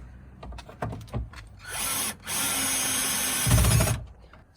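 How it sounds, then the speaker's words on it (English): A power drill drives a bolt during a taillight bulb replacement, whirring in two bursts, a short one then a longer sustained run, after a few clicks and handling knocks, close by. "I have the bolt on my drill, so now we're just gonna put the first one in"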